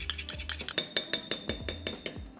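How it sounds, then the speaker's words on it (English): A spoon stirs a lemongrass chicken marinade of fish sauce, light soy and oyster sauce in a bowl, clinking and scraping about a dozen times in a brisk, even rhythm close by. "And then just mix that all together."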